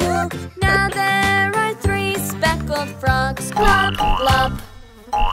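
Cartoon-style frog croaks repeat throughout a bouncy nursery-rhyme song about three little speckled frogs on a log, sounding clearly over steady instrumental music.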